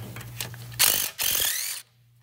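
A ratchet clicks quickly in two loud bursts while loosening a 12 mm bolt on a Hyundai Tucson brake caliper, each burst rapid and close.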